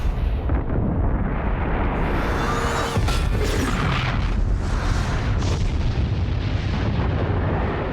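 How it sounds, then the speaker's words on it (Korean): A chain of bomb explosions in a film scene, heard as continuous dense rumbling booms with a sharper blast around the middle. The sound stays loud and sustained throughout, with no speech. "폭탄이 연쇄적으로 폭발하기 시작하고"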